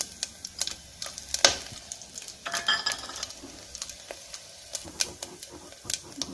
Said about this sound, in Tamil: ஆயில் நல்லா ஹீட் ஆயிடுச்சு. நம்ம இப்போ சோம்பு போட்டுக்கலாம்.